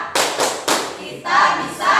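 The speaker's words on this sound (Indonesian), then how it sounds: "Sudah siap tepuk semangat?" A school class does the rhythmic 'tepuk semangat' spirit clap together: bursts of loud group clapping in a quick pattern, with voices chanting along in between.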